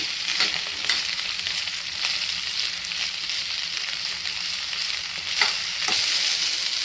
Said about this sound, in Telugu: ప్యాన్ పెట్టి కొద్దిగా ఆయిల్ వేసి కట్ చేసుకున్నటువంటి బెండకాయల్ని వేయించుకుందాం మీడియం ఫ్లేమ్లోనే బెండకాయలు బాగా మగ్గే వరకు వేయించుకోవాలి